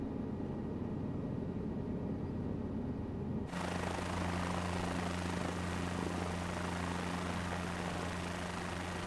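Engine and rotor of a helicopter in Microsoft Flight Simulator 2024 on Xbox Series X produce a loud, continuous whirring drone. Partway through, the sound abruptly shifts to a brighter, fuller tone with a steady low hum, and no one talks.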